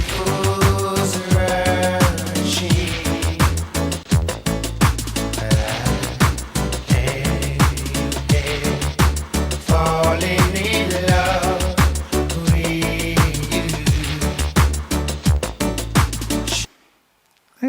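A reggae version of a song plays with a steady, loud groove of pulsing bass and regular offbeat hits for about sixteen seconds, then stops abruptly into silence.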